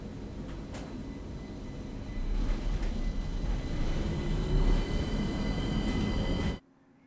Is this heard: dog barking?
no